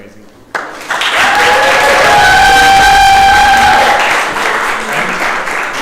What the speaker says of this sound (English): I would like to everybody have a big applause for this board because they're amazing